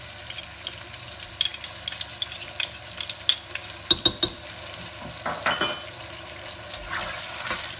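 Mutton with yogurt and ginger-garlic paste sizzles steadily in a pan over full heat, with scraping and clattering as it's stirred, crackles rising near the end.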